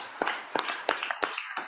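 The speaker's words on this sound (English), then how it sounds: "Give Rocco a big round of applause." A few people clapping in a legislative House chamber during a floor session, five sharp separate claps spaced evenly and close by, with no crowd applause swelling around them.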